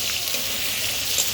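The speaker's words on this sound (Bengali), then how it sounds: "মাছের ঝোলের জন্য আলুগুলো ভেজে নিই।" Potatoes fry in hot oil for a fish curry, a dense, continuous close sizzle with no pauses.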